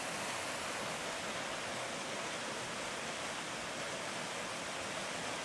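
Steady rushing water flows without pause, a broad continuous wash of a stream or small waterfall close by in southeastern Wyoming, with snow on the ground.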